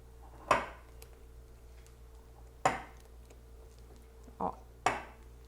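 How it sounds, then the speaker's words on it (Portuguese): A spoon scrapes around a bowl of walnut candy mixture with four distinct clinks and knocks spaced a couple of seconds apart, heard over a steady low hum. "o truquezinho é mexer as laterais aqui primeiro. E depois indo pro centro."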